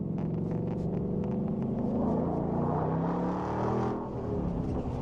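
A Ford Mustang with a Borla exhaust accelerates on a wet road, its loud engine note rising and swelling in pitch through the pull, eases briefly near the end, then surges again. No one speaks.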